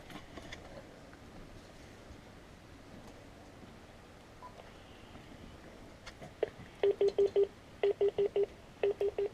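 Touch-tone DTMF dialing of a phone number over a telephone line, short evenly spaced beeps in quick bursts after several seconds of quiet line hiss, no talking.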